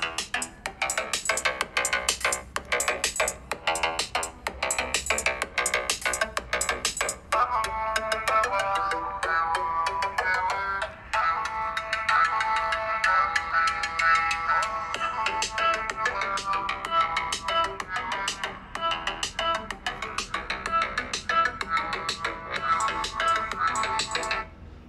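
A ringtone plays at full volume from the single bottom speaker of an OPPO A95 phone, a bright, continuous electronic melody with rapid repeating notes running loud and steady throughout.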